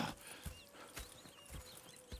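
Horse hooves clip-clopping in Red Dead Redemption 2, a few soft, evenly spaced hoof thuds at moderate distance over a quiet ambient background, with a brief whinny-like sound.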